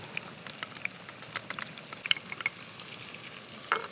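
Crayfish crackle and spit in a hot frying pan, a faint scatter of small, irregular pops and ticks over a low sizzle with no talking.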